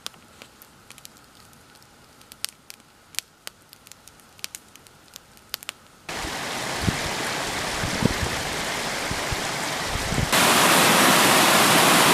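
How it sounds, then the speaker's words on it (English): A small creek flowing out of a lake runs beneath a little bridge, a steady rushing wash that grows louder partway through, with scattered sharp ticks over the constant water noise. "This is a little creek that comes off of Aggie Lake."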